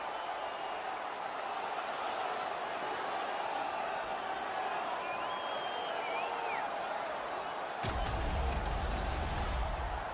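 A hockey arena crowd roars steadily after a fight at a Calgary Flames game. The dense, distant wash of cheering swells slightly louder near the end.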